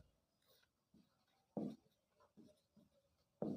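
Writing a table on the board in a chemistry class: separate scratchy strokes come in short, irregular bursts with pauses between them, faint and close, with no speech.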